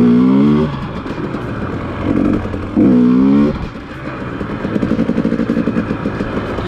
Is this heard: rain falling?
no